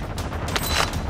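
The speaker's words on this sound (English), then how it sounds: "I heard gunfire." A rapid burst of Warzone 2 video game gunfire, with dense overlapping shots crackling for about a second at a steady, moderately loud level.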